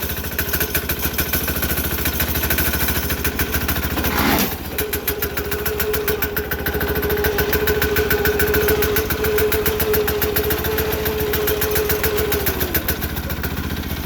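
A 6HP diesel engine on a Sears Suburban snow plow tractor, being broken in, runs close by with a rapid, steady chugging idle that stays even throughout, briefly changing pitch partway through.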